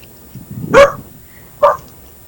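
A dog gives two loud, close barks about a second apart, the first longer and fuller, the second shorter, against a quiet background.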